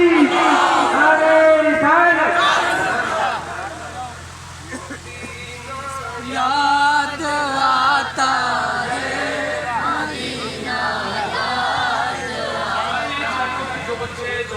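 Crowd at an outdoor religious gathering shouting a response to a takbir slogan, several loud collective cries in waves over a crowd murmur, with a voice on a loudspeaker leading between them.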